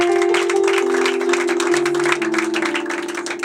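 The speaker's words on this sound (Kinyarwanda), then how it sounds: "Amashyi menshi cyane duhereza ikaze" A studio audience applauds to welcome a choir, the clapping loud and dense throughout, with sustained musical tones ringing underneath.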